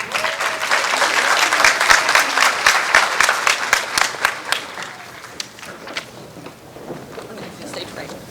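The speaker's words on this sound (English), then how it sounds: "give a round of applause to our seniors, Laney Schrader and Maya Jones" Audience applause for graduating seniors at a high school athletic awards night, a dense wash of clapping that swells, holds steady, then thins out toward the end with some voices mixed in.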